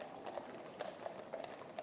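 Horses walk at the State Opening of Parliament, their hooves clip-clopping faintly and steadily on the street some distance away under a broad wash of crowd noise.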